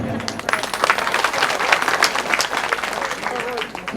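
Audience applause fills a religious Bhagavat Katha gathering in a village, a dense wash of many hands clapping steadily for about four seconds, with crowd noise underneath.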